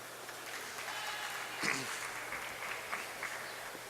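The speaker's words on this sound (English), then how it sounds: "You hear that round of applause?" Brief scattered applause from a handball crowd at a four-wall nationals doubles match, a short light round of clapping heard at moderate distance over steady arena ambience.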